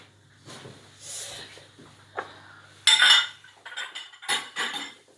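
Dishes and cutlery are handled in a kitchen while butter melts, with scattered clinks and clatters of metal and crockery in short bursts and quieter pauses between.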